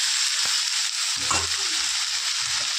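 Potatoes frying in a pan give a steady, close hiss of sizzling oil, with a soft knock and a few low stirring scrapes partway through.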